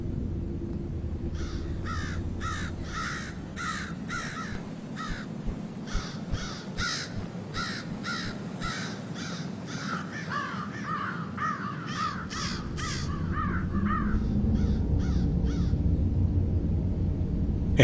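Crows cawing at dusk as a flock travels toward a roosting ground, many harsh repeated caws overlapping at moderate distance over a steady rushing background.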